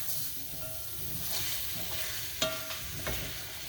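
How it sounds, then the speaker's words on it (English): Small celery stalks being stirred and sizzling in a soup pot for broccoli cheddar vegetable soup, a steady close frying hiss with a few sharp scraping clacks of the spoon against the pot. "Now I'm going to put in my small 2 stalks of celery. Keep stirring that around."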